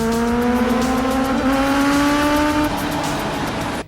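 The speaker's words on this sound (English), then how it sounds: "starts driving the truck into the tunnel the opposite way that Tommy Lee and the other people chasing" A tanker truck drives into a tunnel in a late-1990s action movie, its engine droning loudly with a steady rising tone over a rushing roar, close and uninterrupted, with no voices.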